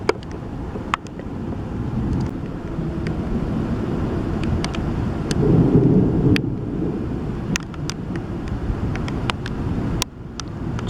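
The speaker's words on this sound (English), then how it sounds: "Wish it'd quit raining on my head." Steady rain falls during a severe thunderstorm, a dense continuous hiss with low wind rumble, sharp drops tapping close by throughout.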